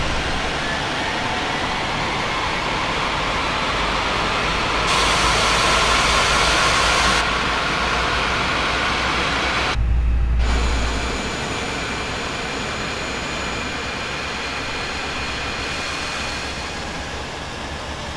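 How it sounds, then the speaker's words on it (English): Airliner engines spooling up in a flight simulator during pushback on an Air France IFR flight from Lille Lesquin to Paris CDG, a steady loud turbine roar and hiss with shifts in intensity partway through and a slight fade toward the end. "You can start the engines in sequence."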